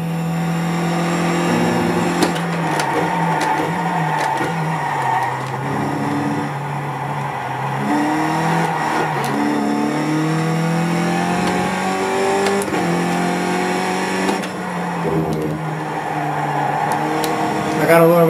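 A Skip Barber Formula 2000 open-wheel race car in the iRacing simulator laps Laguna Seca, its engine revving up and down through gear changes with a steady, loud whine; someone talks over it throughout.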